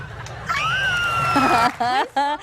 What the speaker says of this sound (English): I'm so excited I could scream